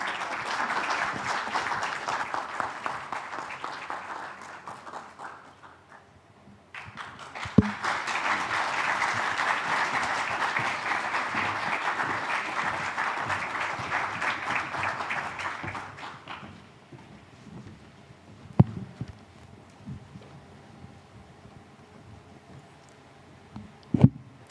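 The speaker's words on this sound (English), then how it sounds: "please give them a big round of applause as well." An audience at a student competition and trade fair claps for a team walking onto the stage, a sustained burst of applause lasting about ten seconds before fading to a quiet room with a few scattered taps.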